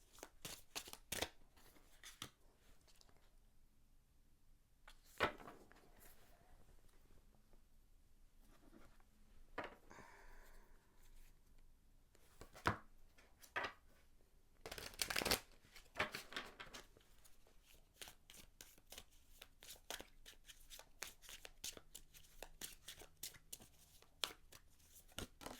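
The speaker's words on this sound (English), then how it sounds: "just kind of sink into the ASMR of the decks being shuffled" Decks of tarot cards are shuffled and handled up close in a quiet room, giving soft riffling, tapping and brushing sounds with occasional sharper clacks, with no talking.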